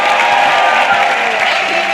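Dense, sustained applause from a large audience at a live motivational event in Jaipur, loud and continuous with a steady wash of claps and some crowd noise.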